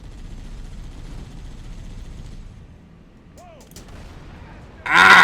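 A Scorpion tank cannon in Halo CE fires a single loud, booming blast near the end, after a stretch of muffled rumbling, a short whistling tone and a quieter lull.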